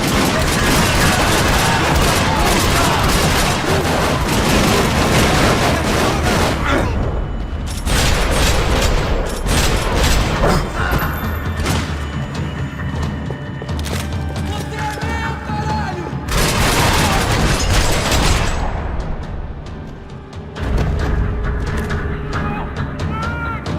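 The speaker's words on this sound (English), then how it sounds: "Another parking lot rattling with gunfire." Sustained gunfire and explosions rattle through a parking lot in the video game Max Payne 3, with dense bursts, booms and mechanical clatter filling the scene, briefly easing before resuming loud and close.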